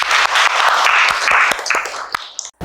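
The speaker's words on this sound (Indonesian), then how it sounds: "Tepuk tangan untuk kalian semua." Students in an Indonesian high school classroom applaud together, a dense burst of clapping that holds steady for about two seconds, then thins out and stops.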